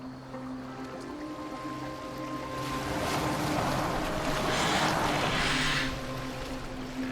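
Boat gliding across open water in Assassin's Creed Valhalla, with a soft steady wash of waves and wind that swells toward the middle before easing; quiet, no talk.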